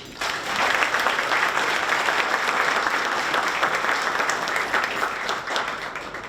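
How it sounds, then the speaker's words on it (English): An audience at a high school Hall of Fame induction ceremony breaks into sustained applause, dense indoor clapping that starts abruptly and holds steady for several seconds. "Get a round of applause for everyone, please."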